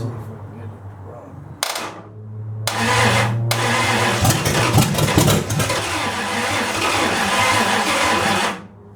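1929 Chrysler 360 engine cranking on a booster: bursts of loud rhythmic churning with sharp catches, then a long, dense, rattling crank for several seconds that stops abruptly, with no voices.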